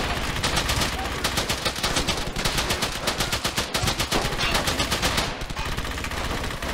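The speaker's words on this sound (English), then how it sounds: "That MG will rip the thing apart, won't it?" Sustained machine gun fire from a World War II shooter game, Brothers in Arms: Hell's Highway, loud rapid bursts rattling almost continuously with brief gaps.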